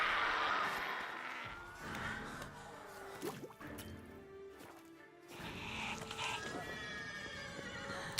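Horse neighing in The Witcher 3, a whinnying call over wet, dripping game ambience with hoof-like clops, moderately loud and close, with faint voices briefly in the background.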